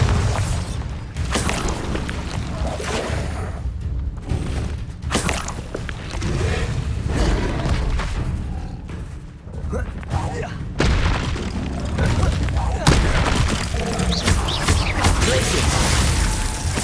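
Repeated booming Bombarda spell blasts in the Hogwarts Legacy video game, loud and dense with heavy low thuds and crackling debris, layered with other combat effects throughout.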